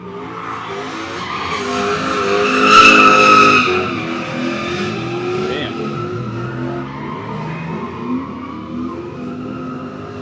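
A BMW drifting on a track in Mexico, its tires squealing in long, loud, wavering howls with engine revving underneath, peaking midway and continuing steadily to the end.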